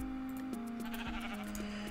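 Minecraft sheep bleat in a steady, drawn-out tone, with soft repeated taps and game sounds underneath and no talking.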